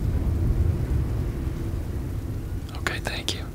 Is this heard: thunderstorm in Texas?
yes